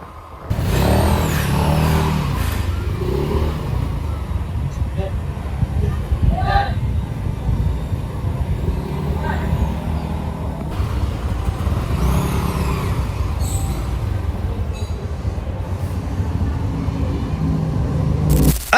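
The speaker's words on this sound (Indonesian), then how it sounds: "kita bawa jalan-jalan dulu nih guys motornya." A Yamaha NMAX scooter is ridden on the road after engine repairs to fix a noisy motor, giving a steady engine drone mixed with wind and road rumble while someone talks over it.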